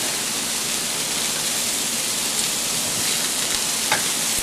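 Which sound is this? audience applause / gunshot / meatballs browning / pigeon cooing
meatballs browning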